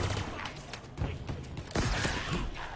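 A shotgun-style pistol fires in the Halo video game, with several hard, crackling blasts and mechanical clicks packed into a few seconds. The shots are close and loud over steady game noise, with no speech.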